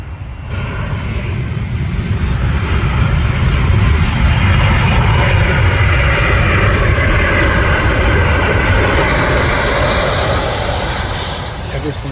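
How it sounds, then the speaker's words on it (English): An airplane passes overhead near an airport in Orange County, Southern California, its loud, broad engine roar swelling and holding steady for several seconds before easing off. "I loved watching planes fly overhead."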